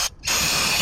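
Carb cleaner sprays onto a plastic Briggs and Stratton lawn mower carburetor in one short, loud hissing burst, starting after a brief click.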